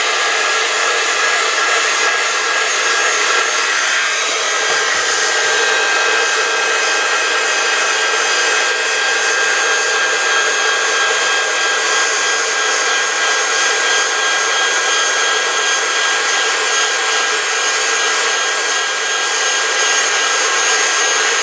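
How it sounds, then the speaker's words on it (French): A heat gun blows hot air over papercraft as a steady, loud, broadband whoosh that holds for the whole stretch, close and continuous with no talk over it. "Et je vais utiliser un pistolet à air chaud"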